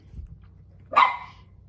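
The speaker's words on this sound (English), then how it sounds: "that's the little guy that causes all the barking in this house" Small dog barking indoors in a house, a single sharp close bark rising out of a quiet room hum, short and loud.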